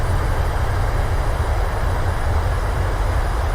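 Steady loud roar of thrust reversers on a PMDG 737 landing at Trondheim in Microsoft Flight Simulator, a continuous heavy low rumble with hiss, alone without talk.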